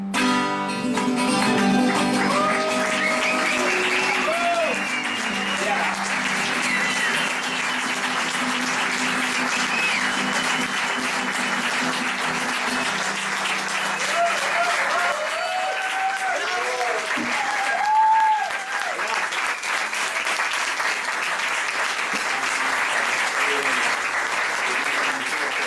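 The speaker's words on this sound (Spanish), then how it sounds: "Un aplauso para él." A festival audience applauds warmly and continuously, with voices and cheers mixed into the clapping as the crowd keeps going at a steady level.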